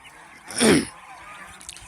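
A goose on a goose farm gives a single loud, close honk that rises and falls within about half a second over quiet background, with no talking.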